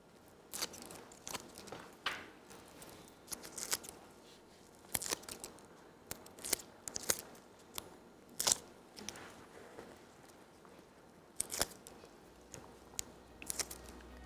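Crackly, sticky peeling sounds of backing paper pulled off tape come in short irregular bursts, close and fairly quiet, with brief pauses between pulls and no talking.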